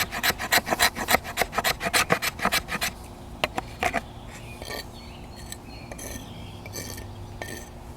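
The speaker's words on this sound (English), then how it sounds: "it's doing an excellent job of whipping up some fat wood" Rhythmic rasping strokes as the sharp 90-degree spine of a Battle Horse Knives Highlander bushcraft knife scrapes fatwood into curls and shavings, loud and close for about three seconds, then a few scattered scrapes and light clinks.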